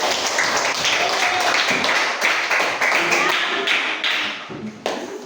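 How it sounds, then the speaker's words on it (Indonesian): Fifth-grade elementary students clapping in a classroom, a loud burst of many hands clapping that tapers toward the end, with a few sharp individual claps and faint voices mixed in. "Terima kasih semua, tepuk tangan"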